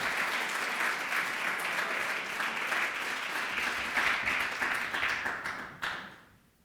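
Audience applause for a keynote speaker at a commemorative celebration: sustained, close clapping at moderate level that thins and fades out in the final second.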